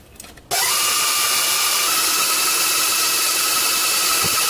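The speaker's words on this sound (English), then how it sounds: "then you want to blast your mixer back on high and let it go and do its thing" An electric stand mixer runs on high, whipping Swiss meringue buttercream with a loud, steady whir that starts abruptly after a brief quiet moment and holds unbroken to the end.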